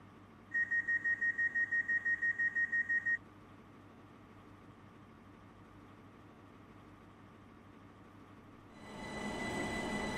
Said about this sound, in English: The train now approaching at platform 10.